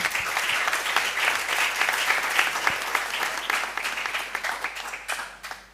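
A loud, dense round of applause from an audience fills the room, many hands clapping steadily before thinning into a few scattered claps at the end.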